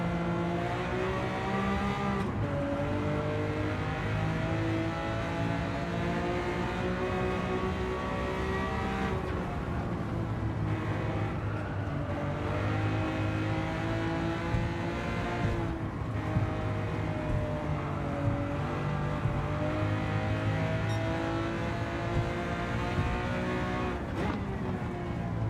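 A Lamborghini Countach racing in Gran Turismo 7 on the Tokyo circuit, its engine droning loud and continuous, pitch climbing and dropping through gear changes for the whole stretch.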